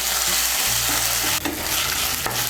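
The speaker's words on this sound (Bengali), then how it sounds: "আদা বাটা, ছোলা আর নারকেলটাকে তেলের সঙ্গে মিশিয়ে নিয়ে একটু ভেজে নেব।" Ginger paste, chickpeas and grated coconut fry in hot oil for a Bengali vegetarian dish, giving a steady close sizzle with a couple of sharp stirring scrapes against the pan and no talking.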